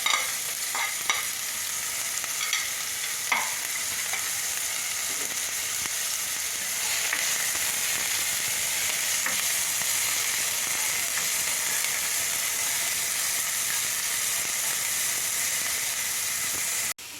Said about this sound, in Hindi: तो ऑयल हमारा अब गरम हो चुका है, तो मैं इसमें हाफ़, जितना मैंने अनियन डाइस किया था उससे हाफ़ मैं डाल दूँगी इसमें